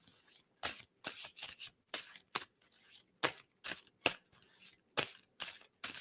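Tarot cards being shuffled in repeated crisp riffling bursts, close and fairly quiet, with short pauses between each pass.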